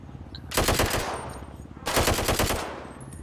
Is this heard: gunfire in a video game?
yes